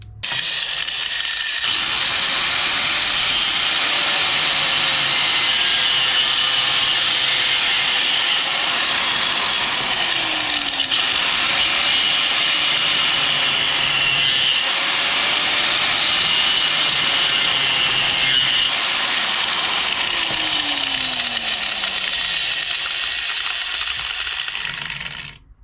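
A power cutting tool whines loudly and steadily, slicing open a clogged BMW crankcase ventilation valve, with a harsh grinding hiss and slight pitch dips as the blade bites.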